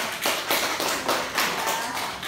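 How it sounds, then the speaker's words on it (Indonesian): A small group of classmates claps briefly during a school micro-teaching math lesson. Several soft bursts of light clapping come in quick succession, fairly quiet and with no talk over them. "Tepuk tangan dulu."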